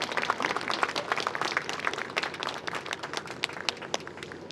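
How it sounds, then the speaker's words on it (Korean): An outdoor crowd at a labor rally for non-regular workers claps steadily, giving a dense, sustained burst of applause that continues at an even level, moderately loud and without talk. "힘찬 박수 부탁드리겠습니다."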